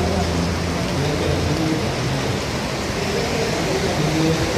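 Heavy rain pours down in a steady, dense roar that stays loud and unbroken throughout, in Cali, Colombia.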